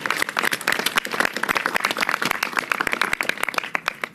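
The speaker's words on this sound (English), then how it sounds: "Let's give him a round of applause." Audience applauding at a New York City mayoral event on industrial and manufacturing jobs: steady, brisk clapping from a crowd, dense and sustained with sharp individual claps standing out, no voices on top.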